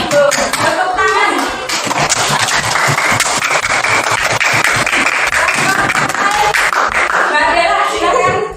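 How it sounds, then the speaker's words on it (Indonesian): A classroom group claps together after a teacher's prompt during a school coaching session, a dense, steady patter of many hands lasting throughout, mixed with children's voices and chatter. "Tepuk tangan."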